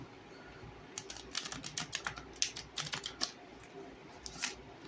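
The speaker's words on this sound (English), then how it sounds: "Let's give them a good shuffle." A deck of cards is given a riffle shuffle close by: a rapid, crisp flurry of paper flicks builds and fades over a few seconds, followed by a soft final tap, with faint room noise underneath.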